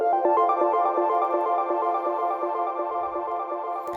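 A flourishing synth melody from a Diva soft-synth preset in a house remix, with bright, evenly repeated plucked notes in layered eighth- and sixteenth-note patterns, played steadily and alone at a moderate level.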